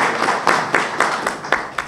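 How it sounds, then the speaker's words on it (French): A few people in an audience clap when asked to applaud someone during a concert announcement, giving sparse, fairly close hand claps in an uneven rhythm, about eight distinct claps over two seconds. "C'est l'occasion pour moi de vous demander de l'applaudir"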